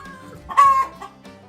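Chickens and roosters on a farm give a few close clucks and one louder drawn-out squawk, close and clear against a quiet yard.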